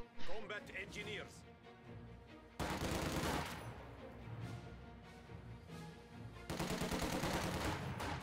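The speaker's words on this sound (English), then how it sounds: "MG42 rotating to fire on those conscripts there in the south." MG42 machine gun firing in a Company of Heroes-style real-time strategy game, sustained rapid bursts mixed with other gunfire and battle noise, heard under continuous commentary.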